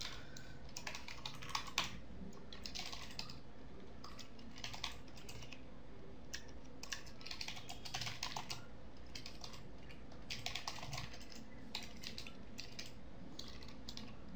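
Code being typed on a computer keyboard for a C programming lesson, a steady run of quick, light key clicks in uneven bursts, close and clear, with no talking.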